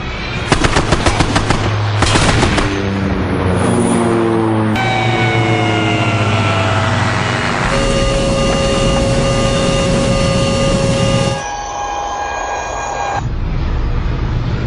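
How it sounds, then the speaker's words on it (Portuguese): Rapid bursts of automatic gunfire from an aircraft crackle at the start, then a loud, steady aircraft engine drone with tonal whines carries on to the end. "Intruso está atirando em mim."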